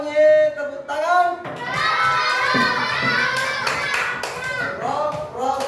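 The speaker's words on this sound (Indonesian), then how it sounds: "Kalau bunyi tepuk tangan." Children in a classroom clap their hands together amid loud, overlapping children's voices and shouting, the claps mixed into steady chatter throughout.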